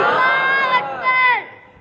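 Crowd at a religious gathering in Sukkur shouts back a loud, unified chant in several rising and falling swells, close and full, then trails off.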